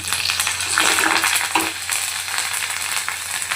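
Mustard seeds and curry leaves sizzle and crackle in hot oil in a pan, a steady, close frying hiss with small pops throughout and no talk.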